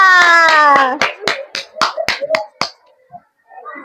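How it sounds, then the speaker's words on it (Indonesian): A class of schoolchildren claps hands for classmates, about ten sharp separate claps spaced irregularly, following a loud voice at the start and fading into quiet with a brief murmur at the end. "Beri tepuk tangan untuk teman-temannya"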